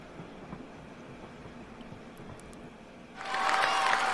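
A train in the game Chris Sawyer's Locomotion rumbles faintly at first, then swells abruptly into a loud, bright rushing noise with a steady tone about three seconds in.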